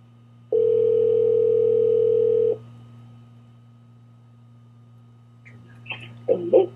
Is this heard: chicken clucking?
no